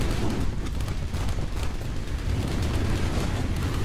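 Heavy flamer flamethrower on a T-55 tank in War Thunder, a continuous loud roaring blast with deep rumble, sustained without breaks throughout.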